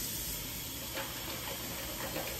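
Hot water runs from a kitchen tap in a steady, quiet hissing stream with faint splashing, heard close and alone.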